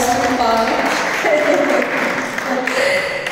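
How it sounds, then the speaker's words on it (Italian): An audience applauds Carlo at an Easter evening gathering in Collesano, with steady clapping under overlapping voices and a few tonal sounds, moderately loud throughout. "Un applauso per Carlo che ha lavorato notte e giorno."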